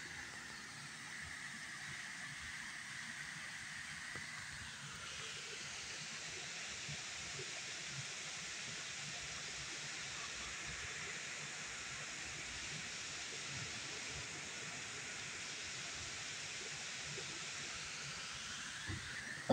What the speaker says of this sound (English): I turned the microphone towards the source of the water sound.